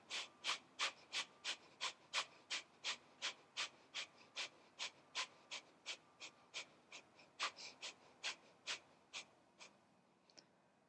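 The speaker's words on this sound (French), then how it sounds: "Inspire, gonfle le ventre. Expire." Slow, deep breathing during a yoga exercise, about two dozen evenly spaced breaths in a steady rhythm, close and fairly quiet, with no talking.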